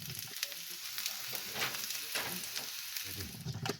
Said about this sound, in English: You just fry it together for a few minutes and the food is ready.